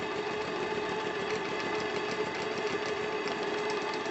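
A Stuart D75 V steam engine idles under steam, giving a steady, continuous mechanical chugging with a fast even beat and a sustained tone, heard close and alone at a constant level.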